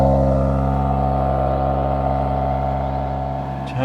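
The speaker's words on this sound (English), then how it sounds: "the exhaust sound is amazing" A 2024 Mercedes GLE 53 AMG hybrid's six-cylinder engine hums loudly and steadily in Sport Plus mode with a deep exhaust drone, close by, fading slightly near the end.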